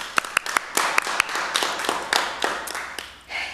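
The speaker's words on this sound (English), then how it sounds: "let's have our small round of applause with big hearts for Peace Officer Alvarado" A small group applauds a peace officer at a city council meeting, a sparse, close round of uneven individual claps that trails off, ending in a brief voice.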